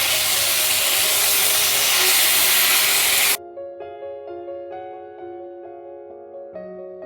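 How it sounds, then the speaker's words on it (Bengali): Chicken pieces fry in hot oil with a loud, dense sizzling hiss for about three seconds, then it cuts off abruptly and music plays. "এগুলোকে আমি ভালো করে ভেজে নেব একটু।"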